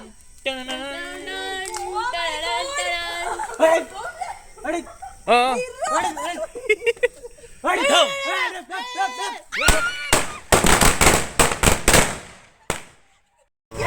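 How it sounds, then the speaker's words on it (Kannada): People talk, then a rapid, dense string of sharp crackling firecracker bangs bursts out for a few seconds during Diwali, loud and close. "ಧೈರ್ಯ ಮಾಡಿ ಸರ ಪಟಾಕಿ ಹೊಡಿತಾ ಇದ್ದೀನಿ"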